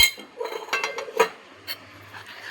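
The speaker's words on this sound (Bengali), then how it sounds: "ঘিটা দিয়ে আবার ভালো করে নাড়তে হবে" A utensil clinks and scrapes against a bowl while stirring flour batter mixed with ghee, a few quick close taps and scrapes with short pauses between them.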